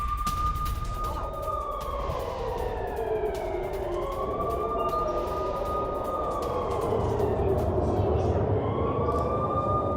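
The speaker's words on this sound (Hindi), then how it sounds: "पूरे शहर में गूंज रही है सायरन की आवाज" A wailing rocket alert air raid siren rises and falls in long, slow sweeps across a city in Israel, echoing loudly over a constant low background rumble.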